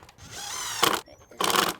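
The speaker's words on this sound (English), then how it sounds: "this is a sort of special kind of screwdriver called a hammer screwdriver, and it sort of just makes it go in even more" A hammer screwdriver drives a screw into a musical-tube craft build, giving two short bursts of grinding, ratcheting noise close to the microphone with a brief pause between them.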